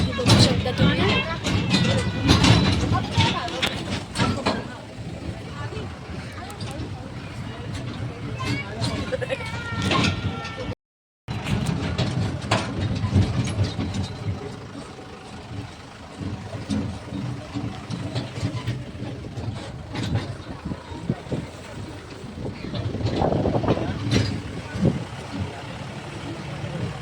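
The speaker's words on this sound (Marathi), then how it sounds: "आता आपण बसलेलो आहे ट्रॅक्टर राईडवरती" A tractor ride at an adventure park rumbles along, its engine a continuous low drone with bumps and rattles throughout, while a person speaks over it for much of the time.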